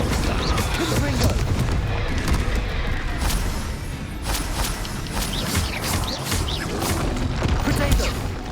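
Spells cast in the video game Hogwarts Legacy, Confringo among them, set off fiery blasts and crashing impacts amid dense combat noise and voices shouting spell names, with a constant loud, busy wash of bursts throughout.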